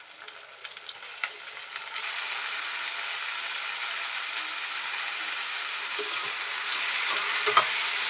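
Half a kilo of chicken fries with well-sautéed onions in a pot for home-style biryani. A steady close hiss of sizzling runs throughout, broken by a few faint scrapes and clicks of stirring.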